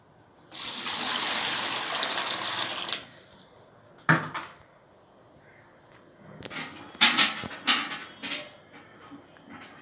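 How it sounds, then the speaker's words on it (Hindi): Water runs into a bucket as a rushing, splashing pour lasting a couple of seconds, followed by scattered sloshing and knocks, moderately close. "अब बाल्टी चेंज हो गया, अब देखते हैं कितना पानी आता है।"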